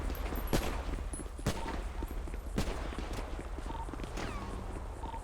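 Gunshots ring out during a police operation, several sharp isolated cracks spread over a few seconds against a low rumbling background, with faint scattered noises between them.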